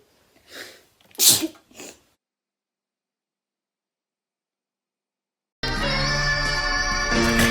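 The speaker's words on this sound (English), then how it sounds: "Apparently I have a really cute sneeze." One close, sharp sneeze with a brief intake before it, from a person having a Covid-19 nasal swab test, followed by silence, then unrelated music.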